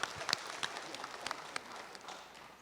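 Brief, fairly faint applause from an audience at a career academy panel day, a thin patter of clapping with a few sharper claps standing out, tapering off quickly.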